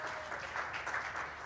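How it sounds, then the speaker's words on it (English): Short burst of steady applause from a congregation at a church meeting, even and moderately distant with no voices on top. "a round of applause for her too"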